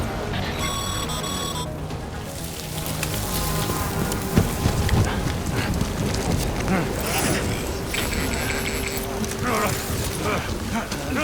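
Steady rain hisses across the scene in the game Death Stranding, a dense even patter overlaid with creaking mechanical sounds and brief tonal chimes, continuing throughout at moderate loudness.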